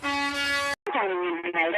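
A car horn honks in a Domino's radio ad, a steady loud blaring tone followed after a short gap by a spoken voice.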